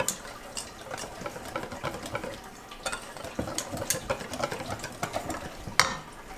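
Batter of milk and egg being mixed for Somali malawax, a steady run of soft scraping and clinking strokes close by, with a few louder knocks against the bowl.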